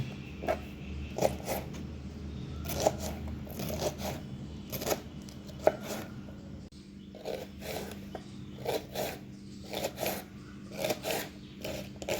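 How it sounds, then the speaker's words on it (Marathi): Repeated sharp cutting knocks on a board as okra (bhindi) is chopped, stems and tips trimmed, irregular strokes close by over a low steady background hum, no talking. "भेंडी चिरताना कढईचे देठ आणि थोडासा शेंडा काढून बाजूला टाकू आणि नंतर मग चिरूया"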